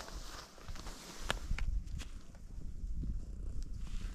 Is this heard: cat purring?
yes